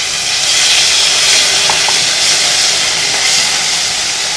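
Ginger-chili-garlic paste sizzles in hot oil already seasoned with mustard seeds, cumin and dried red chilies, cooked for a Gujarati dhokli curry; a steady, close frying hiss runs throughout with no talk.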